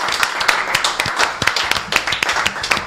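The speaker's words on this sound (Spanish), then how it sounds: "Julita, te vamos a aplaudir de vuelta" A crowd claps for Julita at a 17 de Octubre Peronist gathering, with dense, fairly loud clapping in an irregular patter of sharp hand claps throughout, and a few voices faintly underneath.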